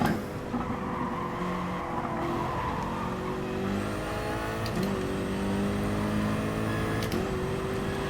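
Race car engine in GT Sport revving steadily with rising and falling pitch, briefly shifting near the middle and the end as the car is pushed hard through corners, continuous and close.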